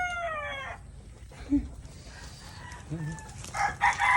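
Chickens on a game farm cluck and squawk sporadically nearby, with short calls scattered over quiet farmyard background noise.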